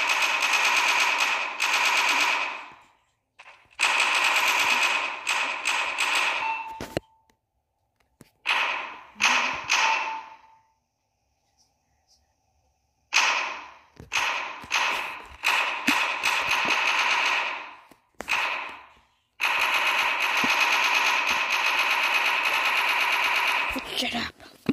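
Video game turret firing like a machine gun, with long loud bursts of rapid gunfire that stop and start repeatedly. A voice speaks between the bursts.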